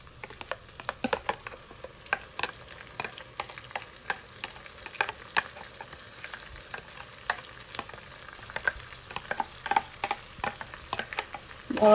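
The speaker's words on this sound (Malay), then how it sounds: "Sekarang saya akan masukkan bawang yang dah dikisar tadi ni." Blended onion, anchovy and ginger paste hitting a hot pan for sambal nasi lemak: close, sustained sizzling full of sharp crackles and pops spread across the whole stretch.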